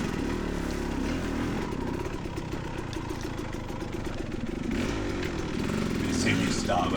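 A 2024 Beta 300RR two-stroke dirt bike engine runs at steady revs while riding a brushy trail, a continuous buzzing drone that rises slightly near the end, with a rider's voice talking over it.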